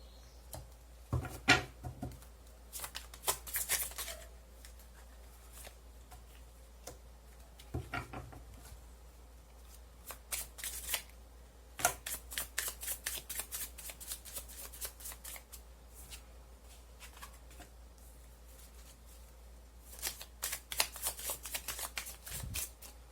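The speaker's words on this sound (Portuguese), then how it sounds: "Esse aqui eu consegui baralhar um pouquinho melhor." A small tarot card deck shuffled by hand in bursts of rapid riffling clicks, with quiet pauses between the rounds, close and fairly soft.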